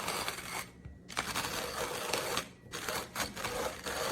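Timemore manual conical steel-burr coffee grinder crushing beans, a close, gritty crunching that rises and falls with each turn of the handle, with brief pauses between cranks.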